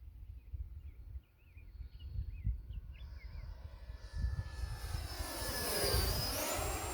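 An E-flite F-16 Falcon 80mm electric ducted fan RC jet flies at full throttle, its steady whine rising and building louder toward the end against light wind rumble outdoors.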